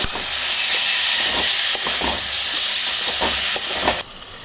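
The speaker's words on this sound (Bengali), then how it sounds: "এবার আমি খাসির চর্বিটা দিয়ে দিচ্ছি। এবার নাড়িয়ে নিচ্ছি।" Goat fat fries in a pan with spices, giving a loud, steady sizzling hiss while a utensil stirs it in repeated scraping strokes. The sizzle drops off abruptly near the end.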